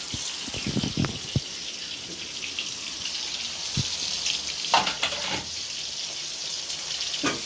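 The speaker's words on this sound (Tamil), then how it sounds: "கல் நல்லா சூடாக போட்டு மீடியம் இதில் வச்சிடணும்" Masala-coated fish fries on a hot stone griddle at medium heat with a steady, soft, hissing sizzle. Scattered pops and crackles rise above it, a few louder bursts stand out, and nobody talks.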